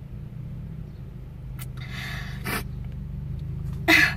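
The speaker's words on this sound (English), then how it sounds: "There's cars coming back and forth" Cars moving back and forth through a parking lot: low engine rumble underneath, with a few whooshing passes and a sharp brief noise near the end, no one speaking.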